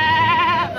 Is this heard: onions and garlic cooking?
no